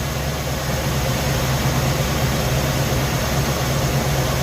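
Car engine idling during an ignition timing check, a steady, continuous low rumble with an even pulse and no voices.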